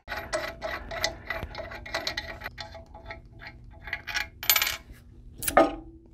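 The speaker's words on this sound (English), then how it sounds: "we'll remove all 4 of these bolts" Bolts are worked loose from a Gusher vertical pump, producing a string of close metallic clinks, ratcheting clicks and small clatters that come in irregular bursts, with no voices.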